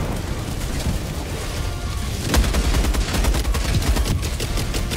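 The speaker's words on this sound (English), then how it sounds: "the sentry guns are just eating everything alive right now" Sentry guns in Helldivers 2 firing in sustained rapid bursts, a dense, loud barrage of gunfire with booming impacts that intensifies partway through, with no voices.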